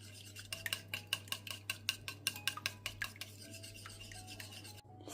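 A spoon stirs oil, white vinegar and black pepper together in a bowl, with a quick steady run of clinking, scraping strokes over a constant low hum before the stirring slows and stops.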